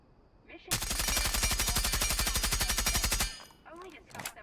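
A long, rapid burst of suppressed automatic gunfire in the video game Rainbow Six Siege, evenly spaced shots close and loud for about two and a half seconds, then a voice.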